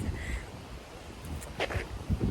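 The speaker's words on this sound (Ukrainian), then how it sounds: "Холодно, вітер, пиль летить, дощ починається." Wind gusts buffet the microphone outdoors in cold weather as rain begins, a low, uneven rumble with light rustling, no voices.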